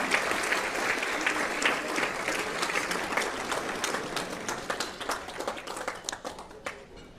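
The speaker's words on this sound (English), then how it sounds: "Give them a big, big round of applause." An audience at a city's State of the City address applauds warmly, a steady crackle of many hands clapping that thins toward the end into a few scattered claps.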